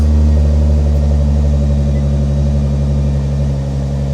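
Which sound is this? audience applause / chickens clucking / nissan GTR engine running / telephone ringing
nissan GTR engine running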